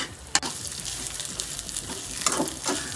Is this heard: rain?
no